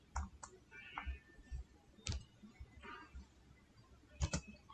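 Scattered computer keyboard keystrokes, a few isolated clicks and short bursts of typing, close and fairly quiet, with no talking.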